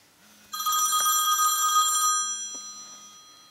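The old-phone ringtone plays on an Apple iPhone 5, a bright electronic bell trilling loudly for about a second and a half, then ringing on more faintly as it decays, with no talk.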